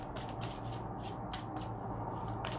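Oracle cards being shuffled by hand, a close, soft riffling and rubbing in repeated short bursts against a quiet background, with no talking.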